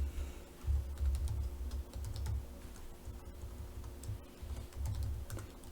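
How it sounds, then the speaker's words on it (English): Quiet, steady typing on a computer keyboard while a variable is entered, with soft irregular key clicks and a low background hum and no talking. "you could have just simply typed your variable here"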